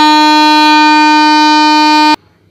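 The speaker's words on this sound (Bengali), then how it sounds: "সেগুন বাগানের আড়াল থেকে প্যাঁকু প্যাঁকু করে সাইকেল রিকশার হর্ন শোনা যাচ্ছে" A single loud, steady horn blast with a bright harmonic tone holds for about two seconds and cuts off abruptly, heard alone near a railway station platform beside a teak grove, attributed to a cycle rickshaw.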